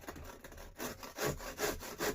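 A hand saw cuts through wood for an isolation table, rhythmic rasping back-and-forth strokes, close and fairly soft, about four to five strokes with no talking.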